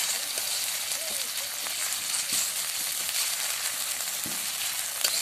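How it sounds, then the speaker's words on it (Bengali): Sliced onion with ginger-garlic paste fries in a pan as meat curry cooks, a steady close sizzle with occasional light stirring taps, moderately loud and without talk. "এবারে পেঁয়াজের সাথে ভালো করে মশলাটাকে ভেজে নেব"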